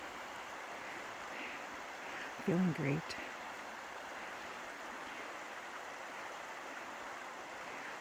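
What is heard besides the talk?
rushing stream water at Canyon Falls in winter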